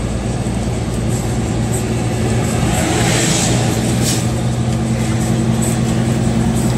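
A truck's engine brake holds at about 1100 rpm, producing a loud, continuous low rumble with a dense, unchanging roar throughout, heard up close from the cab.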